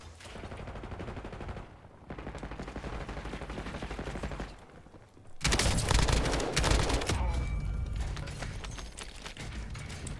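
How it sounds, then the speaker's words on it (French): Gunfire in the video game Call of Duty Warzone, with repeated bursts of shots that swell into a louder, denser volley midway, heard close with faint game sounds and brief talk. "Bah, ça tire."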